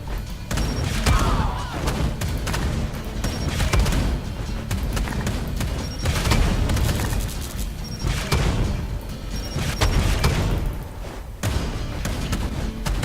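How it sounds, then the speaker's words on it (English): Missile launches and impacts against turrets in the Path of War mobile game, a dense run of booming thuds and crashes over a constant rumbling game soundtrack. "I can use these power plants during combat to gain access to some energy. And that energy is going to allow me to use my missiles to take out these very dangerous turrets"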